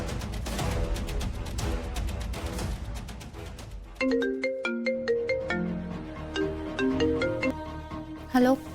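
A phone ringtone plays during an outgoing call, a melodic electronic tune repeating in short phrases, clear and fairly close, following a stretch of busier background sound.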